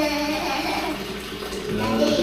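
Water pours steadily into a container in a home kitchen in the morning, a continuous close rushing with a slight rise near the end.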